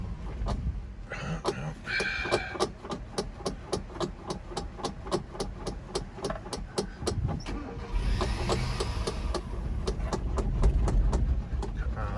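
The starter of a 1983 Mazda B2000 truck engine cranks in a rapid, even rhythm of clicks and churns for several seconds before the engine catches and settles into a steady rough idle, close by.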